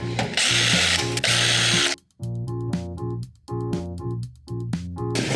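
A power screwdriver loosens screws on a computer case during e-waste disassembly. Loud, close whirring bursts with ratcheting mechanical texture repeat several times, separated by brief gaps.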